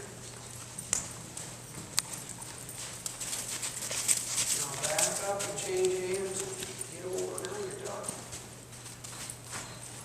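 Horses walk on the ground at a horsemanship clinic while saddling is being prepared, producing soft irregular clip-clop hoof beats at close to middle distance, with someone talking and giving instructions over them.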